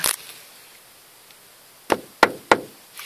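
Three sharp knocks on the double-layer laminated panoramic glass roof of a Honda Freed, the first pair close together and the third quick after, following an earlier isolated tap; crisp and near, no talking.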